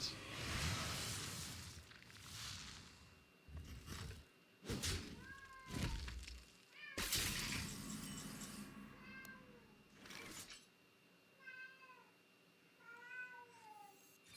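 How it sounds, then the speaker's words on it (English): A cat meowing loudly but from the far end of a house, several drawn-out meows repeating, heard faintly beneath a game's sound effects and other noises. "He's meowing like extremely loudly, but he's at like the other end of the house."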